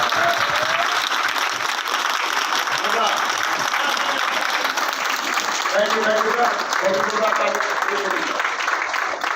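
Loud, sustained applause fills the hall of a motivational talk by a Punjab Police sub-inspector, an unbroken wash of many hands clapping with faint voices and whistles mixed into the crowd noise.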